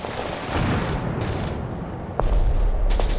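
A WWII battle scene with infantry sheltering behind armored vehicles: loud, continuous gunfire and rumbling blasts, with a sharper, heavier burst near the end.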